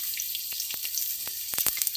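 Onions fry in a pan for paneer butter masala, a bright steady sizzle close up, broken by sharp stirring clicks and scrapes, clustered toward the end, with no talk.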